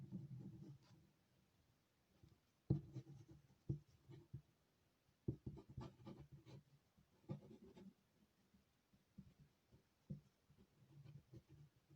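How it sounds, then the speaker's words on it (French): A green tape glue roller is drawn across paper and card in short scraping strokes with small taps and handling noises, quiet and close, in irregular bursts with pauses. "Je vais prendre ma colle scotch verte."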